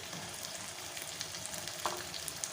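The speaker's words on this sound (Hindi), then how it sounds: "अब इसको हमको बहुत अच्छे से भुनना है जब तक कि इसके ऊपर तेल ना आ जाए सतह के ऊपर।" Beef pasanday sautés in oil in a pan for a Hyderabadi-style gravy, making a steady, moderately quiet sizzle with small pops and crackles throughout.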